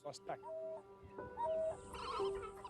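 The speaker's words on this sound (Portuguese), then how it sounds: "ele fazia um quase uivo, que achamos que fosse para chamar sua matilha" A wild dog gives a soft, wavering near-howl to call its pack, several short tonal cries with pauses between them over faint background noise.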